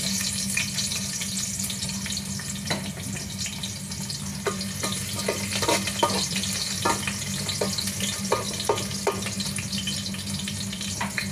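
Garlic frying in a pan with a steady, close crackling sizzle throughout, punctuated by scattered sharper pops and light stirring scrapes, with no voices.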